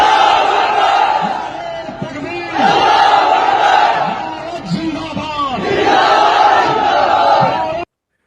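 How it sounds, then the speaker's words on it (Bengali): A large crowd of protesters in the street chants slogans in loud, rhythmic unison, with the waves of voices rising and falling before cutting off abruptly. "এখন লাখো মুসলিমরা রাজপথে। আর কি স্লোগান দিচ্ছে আরেকবার শোনেন"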